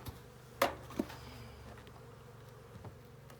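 Honeybees hum faintly around a hive in spring in Québec, a soft steady drone with a couple of brief closer buzzes passing near at the start, no speech.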